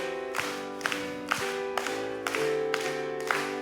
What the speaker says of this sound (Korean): 같이 박수치면서 정말 힘차게 박수치면서